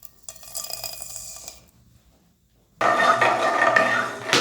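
Mustard seeds, cinnamon, cardamom and cloves frying in hot oil for a fennel kurma, a crackling sizzle that starts, drops to near silence, then bursts back loud and dense for the final seconds.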